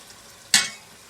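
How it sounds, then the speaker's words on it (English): Chicken and tomatoes frying in a pan for a Guyanese-style cabbage and chicken dish, with a single short burst of sizzle and stirring that fades quickly against a quiet background. "my chicken has been coming along nicely and frying lovely"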